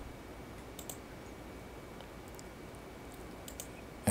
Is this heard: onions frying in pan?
no